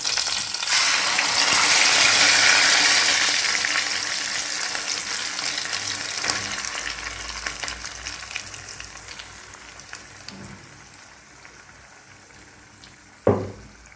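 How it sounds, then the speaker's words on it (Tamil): Ground beetroot and carrot frying in ghee for halwa, a loud hissing sizzle right after going into the pan that slowly fades to a softer simmer, with a sharp clank near the end; no talking. "அந்த நெய்யில் இந்த அரைச்சி வச்சுருக்கிற பீட்ரூட் கேரட் அதை சேர்த்துக்கலாம்"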